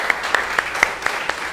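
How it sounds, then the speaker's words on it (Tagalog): A church congregation applauds after a closing prayer, a steady wash of many hands clapping with sharper individual claps standing out at a regular pace, filling the whole moment. "The best pong palakpak ulit para kay Jesus."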